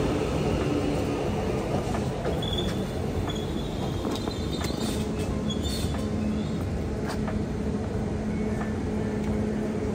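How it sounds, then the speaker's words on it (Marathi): A train pulls into a station in England, a loud continuous rumble of wheels and rail noise with scattered squeals and metallic clanks throughout. "आलेली आपली ट्रेन आता."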